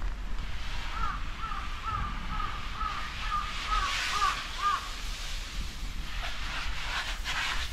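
Crows caw in a rapid series of calls over a vegetable garden planted with bitter gourd, winged beans and corn, heard against steady wind and outdoor background noise.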